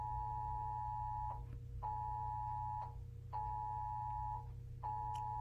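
Cell phone alarm beeping in a quiet room during a language lesson, a repeating pattern of steady electronic tones, each lasting about a second with short gaps, fairly faint over a low hum.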